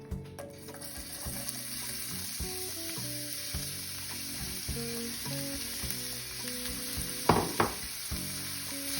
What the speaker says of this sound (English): And then we're going to add some red onion.